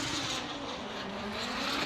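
A Formula Drift car's engine at full throttle as it initiates a drift on the bank at New Jersey, a loud continuous roaring wail that holds steady throughout the short burst.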